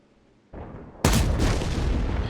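Tank cannon fire in a tank video game: a sudden loud, booming blast with a sharp onset that rings on as a sustained roar, preceded by a quieter rumble of engine or ambience.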